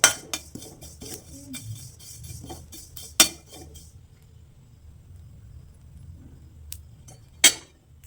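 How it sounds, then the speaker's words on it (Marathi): Carom seeds (ajwain) being dry-roasted in a pan while a spoon stirs them, giving a run of metallic clinks and scrapes in the first few seconds, then a quieter stretch with a couple of sharp clinks near the end. "आता आपण ओवा भाजून घेणार आहोत. तर इथं ओवा टाकून घेतलेला आहे तोही आपण भाजून घ्यायचा आहे."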